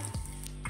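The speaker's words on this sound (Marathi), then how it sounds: "मोहरी चांगली तडतडू द्यायची आहे" Mustard seeds crackling in hot oil with turmeric and asafoetida for a tempering: a short burst of close, busy sizzling and popping.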